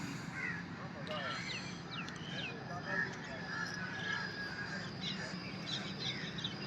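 Crows cawing outdoors at a ground where friends gather for Sunday breakfast in Faisalabad, faint calls and chirps scattered over steady background murmur of people talking.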